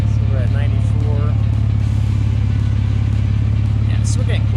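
A BMW 330i engine idles steadily with a low, even mechanical hum during a transmission install, continuous and fairly loud, with faint clatter and brief voices in the background.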